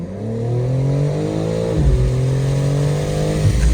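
A 2024 BMW M4 accelerating hard, the engine note climbing steadily in pitch, then a quick gear change before rising again, loud and close, with no talking.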